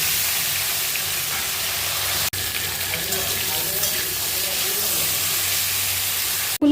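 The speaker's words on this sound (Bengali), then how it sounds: "এবার ওই তেলের মধ্যে ভেজে নেব ফুলকপিগুলোকে।" Cauliflower frying in hot oil gives a steady, broad sizzling hiss that runs without a break, with two brief clicks from the pan.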